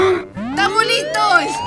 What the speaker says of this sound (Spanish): Esa es la sirena de la emergencia